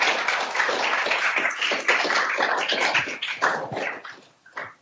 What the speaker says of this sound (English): Wild applause would be appreciated.